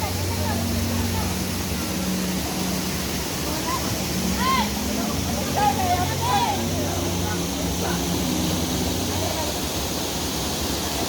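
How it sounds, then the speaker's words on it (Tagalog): Waterfall at Kanawan Salug, Zamboanga del Norte, a steady broad rushing roar throughout, with faint voices and chatter rising briefly in the middle. "Mao ni ang falls diri sa sa Kanawan sa Alog."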